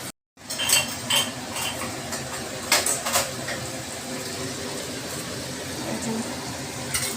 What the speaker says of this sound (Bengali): একটা প্রেসার কুকারের মধ্যে ঢেলে নেব